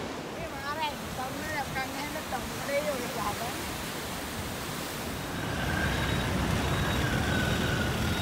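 Indian Ocean surf at Matara, Sri Lanka, heard from a bridge as a steady broadband wash that swells louder in the second half, with voices audible over it early on.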